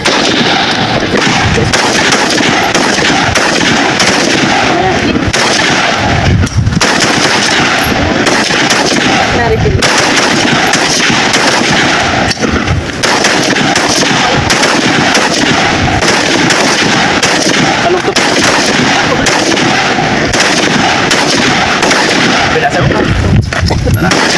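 Rifles fire at an army reservist marksmanship range, loud overlapping shots and bursts that go on almost without a break, with voices talking underneath.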